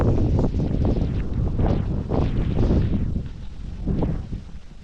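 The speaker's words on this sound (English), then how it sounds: "We have got blowing of the wind." Strong wind blasts across an open outdoor road near maize fields, buffeting the microphone with loud, continuous gusty roaring that swells and eases in waves, with no talking.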